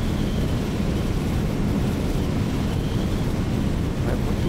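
Steady, loud rushing wind pours in through an open cockpit window of a Douglas DC-3 in Microsoft Flight Simulator, over the mountains of Minas Gerais, a continuous broadband roar with no break.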